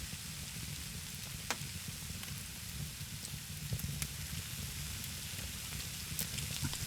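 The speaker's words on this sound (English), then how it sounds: "It usually changes the sound to like a sizzling sound when it's ready." Faint, steady sizzle of meat cooking over a fire in the survival game Scum, a soft crackling hiss with occasional small pops, no talking.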